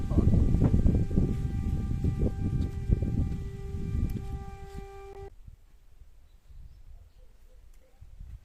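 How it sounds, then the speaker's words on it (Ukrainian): A long, steady civil defense air raid siren wail drones under wind buffeting and close handling noise, then cuts off abruptly, leaving quiet background. "бо це сирена надовго"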